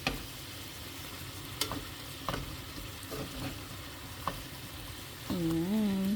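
Pork chops frying in a pan with their marinade sauce, a continuous close sizzle broken by a few sharp ticks and clinks of a utensil, then a voice briefly starts speaking at the end.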